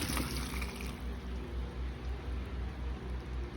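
Cooked pasta is drained through a strainer in a home kitchen, making a steady, close rush of pouring, splashing water that runs continuously without talk.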